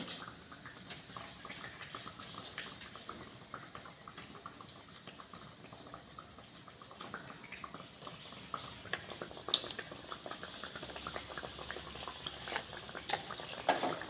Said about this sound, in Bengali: দুটো আমি দিয়ে দিয়েছি তেলের মধ্যে